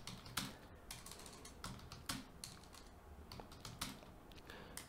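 A computer keyboard being used to type a code comment gives a run of crisp, close key clicks at an uneven rhythm, fairly quiet overall.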